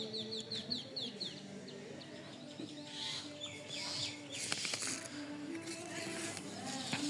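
Village chickens cluck and chirp while feeding on radish leaves outdoors, soft scattered calls over faint background noise, with a brief louder rustle midway.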